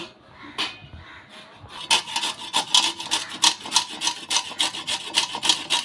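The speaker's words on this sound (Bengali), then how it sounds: "এই মেশিনের সাহায্যে আমি আমড়া একটু গ্রেট করে নেব।" A hog plum (Bilati amra) is rubbed against a kitchen grater in quick, steady rasping strokes. The scraping is close and continuous, starting after a short quiet lead-in, with no talking.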